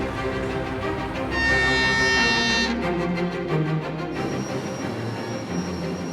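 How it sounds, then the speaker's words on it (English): A long coal freight train of 216 wagons, about 3 kilometers long and hauled by two 9,600 kW electric locomotives, rolls past with a continuous heavy rumble and a high metallic squeal that rises midway and then fades. "216 wagons are marshaled into a 3-kilometer long train"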